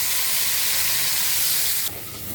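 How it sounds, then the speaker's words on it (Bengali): Paste of ground cumin, ginger, puffed rice, garam masala, poppy seed and nuts is stir-fried in oil, making a loud, steady, close sizzling hiss that suddenly drops quieter near the end. "সব ভালো করে কষাবো।"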